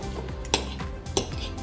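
A fork working frozen durian flesh in a bowl, giving two sharp metal-on-bowl clinks about half a second apart over low scraping and stirring.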